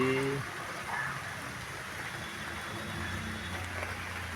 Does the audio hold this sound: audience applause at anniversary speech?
no